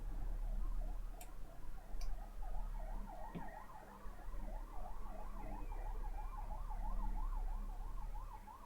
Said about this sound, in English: Man, these Hungarian ambulances are driving me crazy, though.